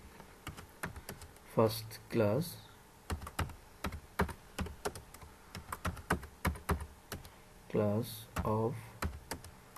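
Rapid keystrokes on a computer keyboard as a C program is entered in the Code Blocks IDE, coming in quick clattering bursts close by, with someone speaking between and over the typing.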